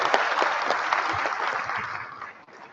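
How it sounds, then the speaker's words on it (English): An audience claps steadily through a sustained round of applause at an indoor health and fitness seminar, dense and even before thinning slightly at the end. "A big round of applause."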